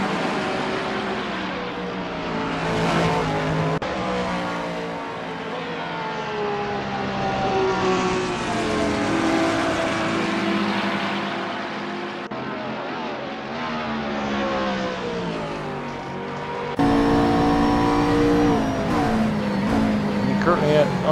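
Onboard engine of a McLaren GT race car at Spa in a racing video game, a continuous loud harmonic drone that rises and falls in pitch through gear changes, with a commentator talking over it throughout.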